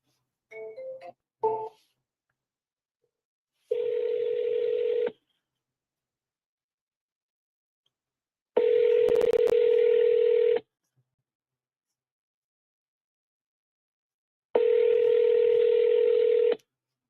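Telephone tones on a call: a quick cluster of short beeps at the start, then three long steady tones, each about two seconds, separated by silent gaps.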